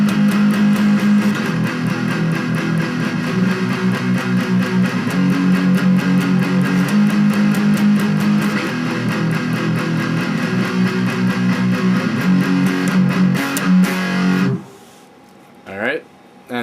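Distorted electric guitar strumming a chord progression in a steady, repeating rhythm of loud chugged chords, cutting off abruptly near the end.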